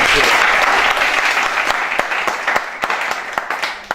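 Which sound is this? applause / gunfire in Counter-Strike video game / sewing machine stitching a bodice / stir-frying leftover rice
applause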